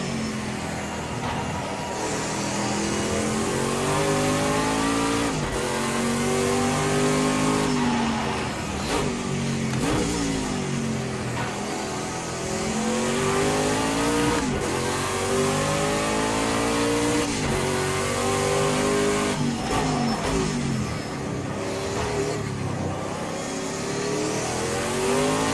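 A prototype race car engine roars in Project CARS 2, revving up and down through gear changes with rising and falling pitch sweeps, loud and continuous with no talking.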